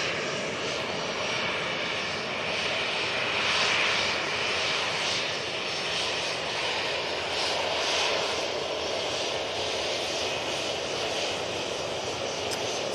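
An Emirates airliner at Manchester Airport roars past, its engines swelling to a loud peak and then settling into a sustained rushing drone, heard alone without speech.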